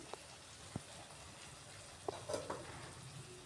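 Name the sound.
spice paste (masala) frying in oil for stuffed eggplant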